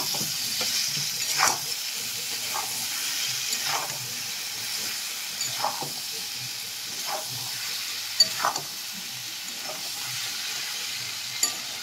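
Amla pickle cooks in a pan with palm jaggery melting into it, giving a steady low hiss and bubbling, while unhurried spoon strokes scrape through the thick mixture every second or two.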